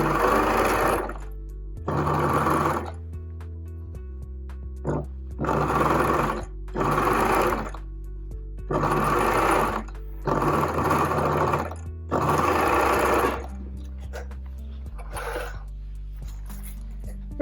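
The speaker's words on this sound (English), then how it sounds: "Stitch along the line." A sewing machine stitches along a marked line on a zero-waste market bag, running in repeated loud bursts of about a second or two each with short pauses between, close and clear with no talking.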